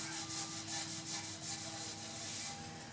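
Danish oil being rubbed by hand over a timber surface with a cloth, a steady soft swishing and scrubbing in repeated strokes, close and continuous with no talking.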